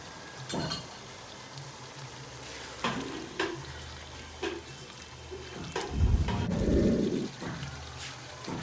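Pieces of liver drop into a hot pan with tomato puree and sizzle, with a louder burst of frying near the end, a few scraping stirs, and brief clatters of utensils.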